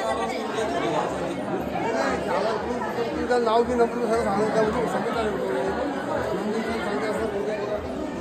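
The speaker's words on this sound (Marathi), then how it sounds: "दर्शनासाठी बघा किती गर्दी आहे" A dense crowd of devotees chatters in a temple darshan queue, many overlapping voices forming a steady, loud murmur close around the listener throughout.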